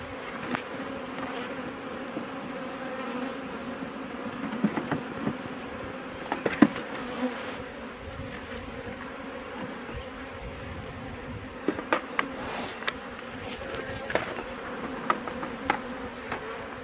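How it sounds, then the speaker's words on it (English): Honey bees buzzing around hive frames in a swarm setup, a steady close drone with varying pitch and occasional light knocks, with no talking. "some of these bees are going to fly back down to here"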